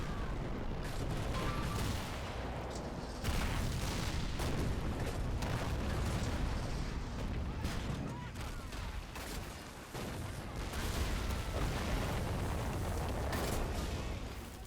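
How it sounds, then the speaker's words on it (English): Artillery shelling and gunfire in the Men of War Assault Squad game during a night German attack on French positions in 1940, a dense, continuous barrage of booms and cracks. "the positions are already being shelled by some German units"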